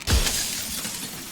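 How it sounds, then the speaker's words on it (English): Glass shatters in the video game Slay the Princess, a single sharp loud crash followed by a fading tinkling tail, with no talk. "Oh, glass breaks."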